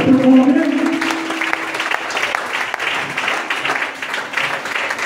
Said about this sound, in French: On acclame la parole.